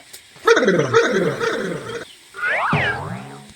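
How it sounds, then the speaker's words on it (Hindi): A dog barks in a quick series of loud, close yaps, then breaks into a rising and falling howl-like yelp, in a rural Awadhi comedy setting. "कुत्ता छोड़ दिया है"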